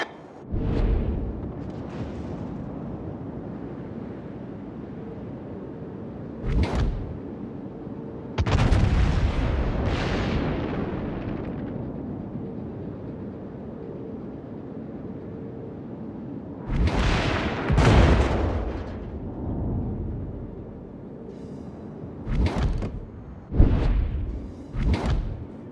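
Naval artillery fire in the World of Warships naval battle game: several loud, heavy booming salvos come in separated bursts, with rumbling decay between shots and no talking.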